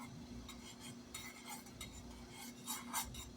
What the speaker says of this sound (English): make sure you're stirring and get that wax melted